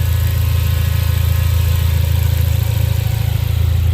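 A 2017 Ford Focus RS with the 2.3 liter engine idles close by, a loud, steady low hum with an even, fast pulsing and no talk over it.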